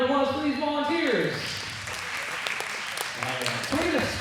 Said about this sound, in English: how about a big round of applause for these volunteers?